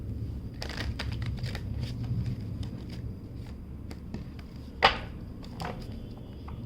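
Tarot cards being shuffled by hand, with soft riffles, slides and taps, one sharper slap near the end, close and quiet.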